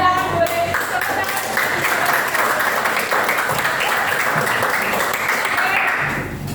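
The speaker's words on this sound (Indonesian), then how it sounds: "Boleh tepuk tangan." A group of people in a class session breaks into steady applause that holds at an even level, with faint voices underneath, then eases off near the end.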